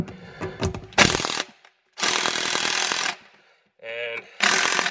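A gun tightens studs into ice racing tires for a VW MK4 R32, giving loud bursts of rattling mechanical whirring separated by short silences, close by, with some handling noise between bursts.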